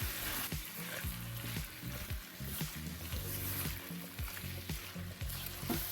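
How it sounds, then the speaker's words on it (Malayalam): Chicken pieces being stirred into a frying spinach curry in a pan, with steady close sizzling and repeated scraping strokes of a spoon throughout, no talking. "റെസ്റ്റ് ചെയ്യാൻ വെച്ചിരിക്കുന്ന ചിക്കനെ നമുക്ക് ഇതിലോട്ട് ആഡ് ചെയ്ത് കൊടുക്കാം. ഇത് നല്ലതോടെ മിക്സ് ചെയ്യാം."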